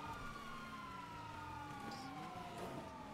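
Video game emergency vehicle sirens wail, rising and falling over a dense, low rumble of engine and background noise during a car chase, steady throughout.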